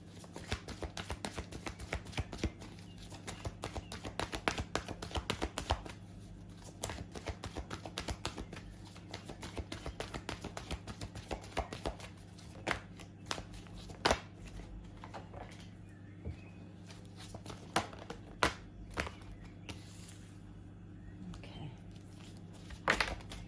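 Tarot cards being shuffled for a long stretch, soft repeated flicks and taps close by, bursts of activity with brief pauses, over a faint steady hum.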